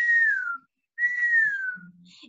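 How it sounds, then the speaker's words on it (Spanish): A person whistles part of a tune as a guessing-game clue: two clear, sliding notes that each fall in pitch, separated by a short silent gap and heard alone. "La primera pista es yo silbando."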